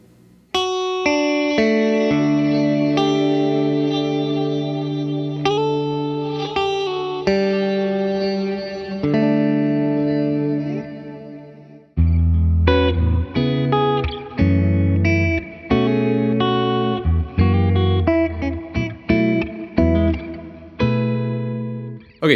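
Through the modulated engine of an Encounter ambient delay and reverb pedal, guitar chords ring out big and swirly, long sustained washes giving way to a busier run of plucked notes, loud and unbroken by speech.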